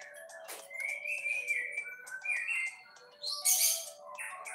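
Young pastol songbird chirping and whistling in a string of short bright calls and rising notes, close by and fairly loud, with no talk.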